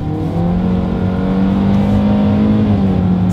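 A 2022 Hyundai Venue accelerates from a rolling start, its engine a loud, steady drone heard from inside the cabin, with the pitch climbing slowly and evenly throughout and no talking.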